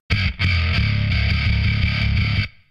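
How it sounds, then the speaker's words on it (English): Bass guitar played through a blended G4 distortion pedal with a virtual Celestion Pulse cab, giving a gritty, fuzzy sustained tone. A few quick notes open into a long held, buzzing chord-like drone that cuts off sharply near the end. "If I blend in the G4 pedal."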